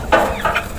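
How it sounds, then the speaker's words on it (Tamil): A few short clucks from a chicken nearby, quick and close, with no one speaking. "இது வந்து கோழி, இது வந்து சேவல்."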